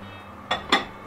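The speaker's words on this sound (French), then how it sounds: "Je vais sortir la Martin's Cook du four." A Martin's Cook dish is taken out of the oven, two quick close clanks of cookware a moment apart against a quiet background hum.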